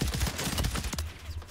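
A rapid burst of automatic gunfire from a gun in the video game Warzone 3, loud and close, rattling for about a second before cutting off into quieter game sound.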